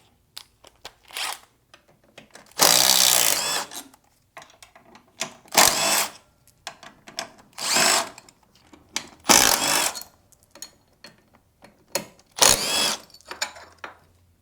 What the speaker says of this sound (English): And then I'm going to use my power tool.